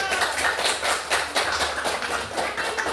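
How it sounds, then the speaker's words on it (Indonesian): Students in a classroom applaud together in a quick, rhythmic burst of claps that carries on steadily for a few seconds, close and fairly loud. "Ayo dikasih aplaus"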